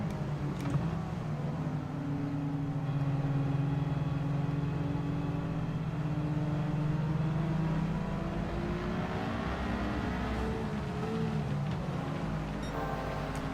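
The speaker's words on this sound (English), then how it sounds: "I love the sound of each and individual opponent's car is different as well." Racing car engines in Gran Turismo 7 drone and whine steadily, several opponents' cars humming together with shifting pitches as they rise and fall, continuous and moderately loud with no talk.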